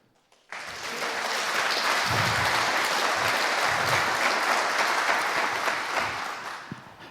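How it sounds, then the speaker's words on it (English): An audience at a hacker-camp conference talk on building a hexapod robot breaks into strong applause. It starts abruptly after a brief silence, holds loud and dense for several seconds, then thins near the end. "So give him a huge applause."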